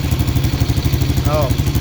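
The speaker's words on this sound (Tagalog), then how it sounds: "Medyo singaw ang tambutso niyan doon sa ilalim at may butas yung tambutso." A motorcycle engine idles with an exhaust that leaks through a hole underneath, making a rapid, regular chugging pulse close by, and a short voice cuts in briefly near the end.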